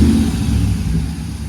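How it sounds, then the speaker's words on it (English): A 2014 Ram Sport truck engine runs at a steady, low, rumbling idle nearby, with no talk. "I'm not going to keep the truck running"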